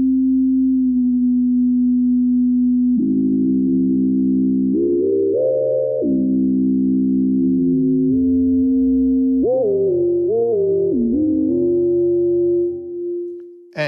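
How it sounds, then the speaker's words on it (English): Elliott Garage WaveSHAPER plugin producing a clean, loud synth tone that holds a low pitch, then bends and morphs through waveshaping and FM with gliding pitch steps and wobbles, alone without any voice. "the morphing between the different waveforms for wave shaping, and then you can also do FM"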